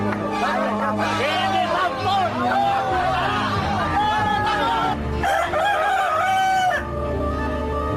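Roosters crow repeatedly at a cockfight, several rising calls over a busy crowd murmur and shouting, fairly near and loud.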